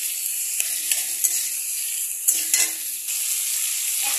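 Potatoes fry over medium heat for aloo motor while being stirred, giving a bright, steady sizzle punctuated by a few spatula scrapes and taps, close and fairly loud with no speech.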